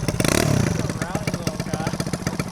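A custom Honda CT70 minibike engine rumbles close by with a loud burst and then a steady, pulsing putter, with voices talking over it.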